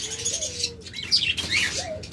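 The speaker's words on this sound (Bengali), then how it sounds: "এটাও একদম রানিং ডিম্বাচ্চা করা পাখি।" Pet birds in a breeding cage, cockatiels, lovebirds, budgerigars or Java sparrows, chirp in short bright calls and rising whistles close by, with faint rustling between them.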